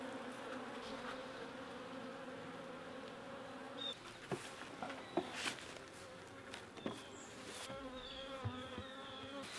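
Honey bees swarm around a backyard beehive, a dense, steady buzzing drone that fills the whole stretch, with a few faint knocks and nearby wingbeats passing close, no voices.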